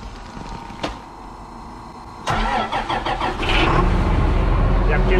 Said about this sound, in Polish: zobaczcie jak te magnumy fajnie zapalają